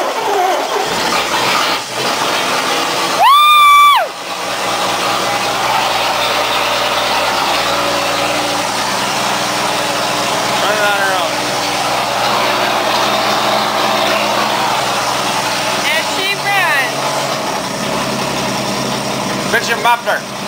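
An old 1966 Plymouth Fury II, a barn find with a leaky exhaust pipe, idles with a steady, rough mid-pitched rumble, up close and continuous, while people talk over it.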